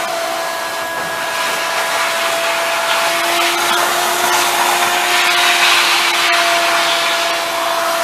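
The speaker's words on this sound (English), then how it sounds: "All the grease is vacuumed out of the troughs." A vacuum sucks grease out of the troughs of a commercial kitchen exhaust system, a loud, steady whooshing roar with a constant motor whine that holds for the whole stretch, with no voices.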